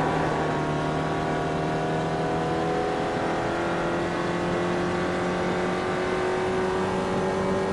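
Small race car engine from an SRF sim-racing car at Summit Point in iRacing, held at full throttle with a steady, loud drone and smoothly rising pitch, continuous and alone with no talk.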